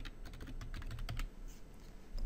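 Fingers type a password on a computer keyboard, a quick run of crisp key clicks close up at low volume with no voices.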